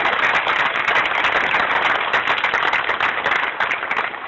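An audience at a church mural unveiling ceremony applauds steadily, a thick continuous wash of clapping heard alone and close throughout.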